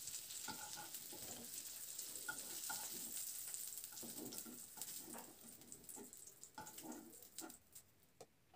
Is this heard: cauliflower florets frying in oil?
yes